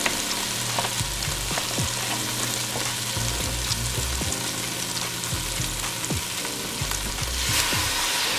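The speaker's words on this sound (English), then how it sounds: "now I'm going to take 3 cups of my heavy cream and add it into my pot." Heavy cream, three cups of it, goes into a hot pot for shrimp Rasta Pasta, giving a steady loud sizzle and bubbling with scattered soft clinks and stirring sounds and no talk.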